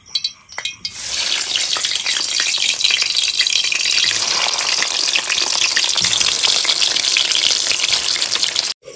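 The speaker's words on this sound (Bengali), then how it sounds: "এবার আলু হালকা করে ভেজে নেবো" Loud, steady sizzle of potatoes frying in hot oil, a dense crackling hiss that starts abruptly and continues without pause until a sudden stop.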